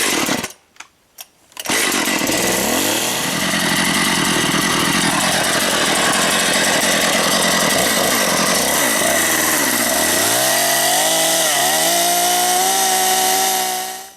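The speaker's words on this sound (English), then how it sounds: "so we're gonna run this chainsaw" A chainsaw with a bar oil leak starts after a few sputtering pulls, then runs loud and steady close by, its engine pitch rising and falling as the throttle revs.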